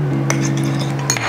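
Eggs whisked in a bowl, giving quick light clinks and taps of a utensil against the bowl over a steady low background hum, brief and close.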